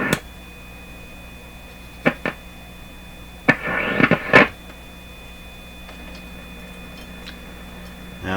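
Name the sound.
signal generator tone over radio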